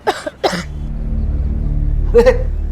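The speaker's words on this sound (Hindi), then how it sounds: "भाभी जी को खांसी आई" A woman gives two quick coughs in close succession, followed by a low steady hum and then a brief voiced throat sound near the end.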